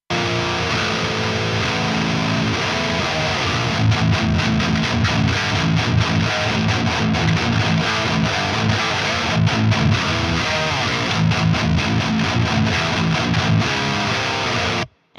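Heavily distorted electric guitar chugs and rings through a TS-808 Tube Screamer pedal into a 6505 amp head, loud and dense for a long stretch, stopping abruptly at the end, death metal style.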